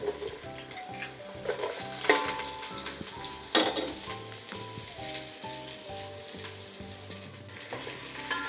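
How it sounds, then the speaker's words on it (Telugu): Onions sizzling and frying in heated oil in a pan for mutton biryani, a continuous crackling hiss with scattered clinks of a utensil against the pot, fairly close and without any talk. "మనం ఫస్ట్ ఉల్లిగడ్డ వేసుకుందాం"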